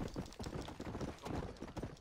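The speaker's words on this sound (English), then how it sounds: "riding a horse is a lot more boring than driving a car" Horse hooves in Red Dead Redemption clip-clop in a quick, steady rhythm while riding, quiet and continuous throughout the short stretch with no voices over it.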